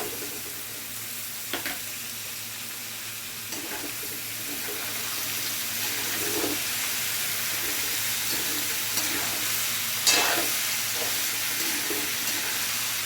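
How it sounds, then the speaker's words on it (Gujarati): Onion added to a pan and stir-fried for potato-onion sabzi gives a steady, even sizzle throughout, with occasional soft knocks and scrapes from stirring. "હવે આપણે ડુંગળી એડ કરી દઈશું."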